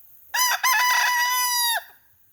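A backyard rooster crows once, close and loud: a brief opening note, then a long sustained harmonic call that drops off at the end, with quiet surroundings.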